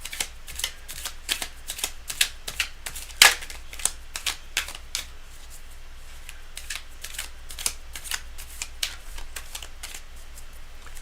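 Tarot cards being shuffled by hand, a steady run of crisp riffling flicks and soft slaps close by, with one sharper snap partway through and no voices.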